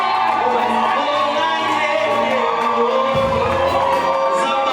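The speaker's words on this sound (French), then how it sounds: "On peut acclamer" Guests at a couple's church blessing ceremony cheering and calling out together, a sustained mixed crowd roar with shouts and whoops over background music, steady and fairly loud throughout.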